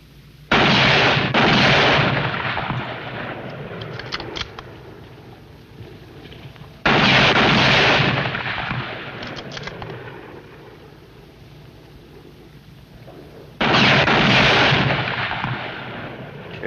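Three loud, sharp gunshots fired by a shooter, spaced about seven seconds apart, each ringing out and decaying slowly with no speech.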